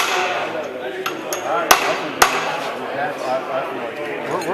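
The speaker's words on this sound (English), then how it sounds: "As hard as it- having to hammer it in there." Two sharp metallic hammer strikes ring out close by as a shaft is hammered into a Gravely Model D tractor, separated by about half a second, with fainter taps before them over background noise.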